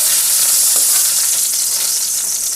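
Vegetables frying in a little oil in a pan, a loud, dense, unbroken hiss and sizzle close by with faint crackles and no speech.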